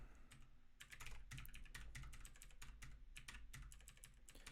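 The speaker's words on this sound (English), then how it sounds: "it's gonna take a while just to type all this out" Rapid typing on a computer keyboard, close and quiet, with bursts of clacking keystrokes in an uneven rhythm over a low steady hum.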